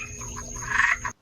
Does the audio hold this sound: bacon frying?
no